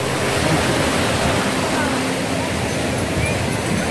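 Sea waves on the beach at Puri, a loud, steady wash of surf that roars continuously without clear breaks, close by and dominating everything.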